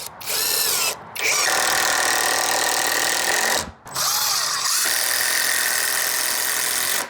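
A Temu impact driver set to high torque drives a screw in two long whirring, rattling runs broken by a brief pause, loud and close, with no talking.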